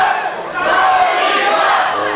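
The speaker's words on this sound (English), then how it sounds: "the crowd chanting," A large wrestling arena crowd chants and roars in unison, a loud, sustained wall of voices that dips briefly and then surges back up.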